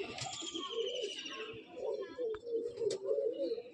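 A breeding pigeon at a loft gives soft, repeated low coos, close by and fairly quiet, with a voice talking over parts of it.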